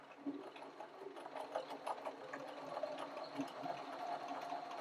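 A sewing machine stitches fabric pieces for quilt star blocks, with a steady close mechanical whirring hum that runs without pause.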